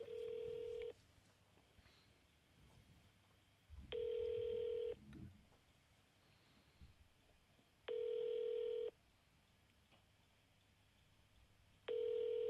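A phone call to a motel rings out on the line: four identical electronic ring bursts, each about a second long, repeat every four seconds over a faint background.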